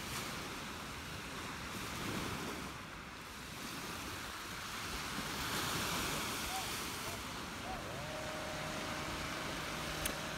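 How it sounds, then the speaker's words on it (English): Ocean surf washing steadily along the beach at Marbella, a continuous broadband roar with some wind buffeting and distant construction noise mixed in, no talking. "I wanted just to show you waves and leave it like that."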